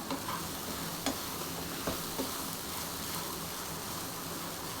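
Cluster beans dry-roast in a pan without oil, giving a soft, even sizzle with a few faint clicks of stirring, quiet and close.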